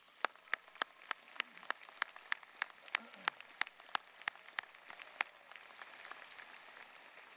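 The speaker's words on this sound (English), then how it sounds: "Let's give him a round of applause" Sparse, faint clapping at a high school commencement ceremony, a few distinct hand claps falling in a fairly regular rhythm that thins out over a quiet, distant room background.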